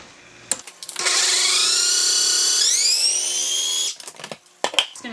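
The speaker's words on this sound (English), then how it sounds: "I'm going to pulse it one more time. Whoa, you know, calm down, food processor." A food processor whirs through a sticky honey mixture, a loud, steady high whine for about three seconds that climbs in pitch before cutting off, with a few short knocks and clatters around it.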